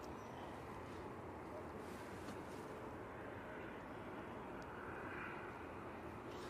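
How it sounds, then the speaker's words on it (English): A Virgin Atlantic Airbus A380 taxiing out at Manchester Airport gives a steady, distant jet engine rumble and whine, faint and even throughout with light wind noise. "Virgin Atlantic A380 on the taxi out."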